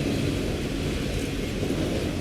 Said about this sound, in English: the train is so fucking loud